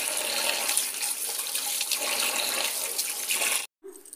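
Tomatoes are rinsed under a steady stream of running tap water, which splashes loudly and continuously before cutting off abruptly, leaving a brief quiet clink.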